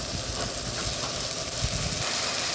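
Manathakkali berries drop into hot sizzling oil in a pan for manathakkali kuzhambu, with a steady close frying hiss and crackle that runs continuously without pause.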